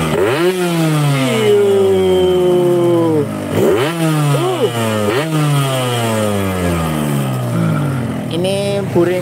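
An old two-stroke Yamaha RX motorcycle with a quarter-overbored cylinder is revved repeatedly up close. The rising and falling blips are rough and raspy and cover the whole clip.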